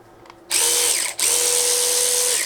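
DeWalt DCF512B 20V Atomic cordless 1/2-inch drive ratchet whirring loudly as it loosens, a steady high motor whine starting after a quiet moment, dipping briefly and resuming for a second run.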